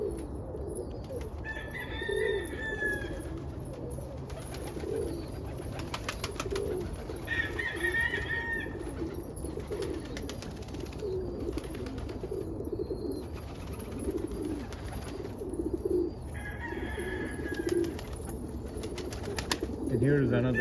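Homer pigeons, including crested saddle and silver check birds, coo inside a loft in the morning, with repeated soft rolling coos recurring every few seconds over a low, constant background hum.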